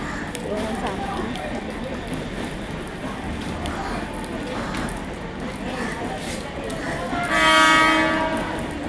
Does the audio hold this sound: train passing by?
yes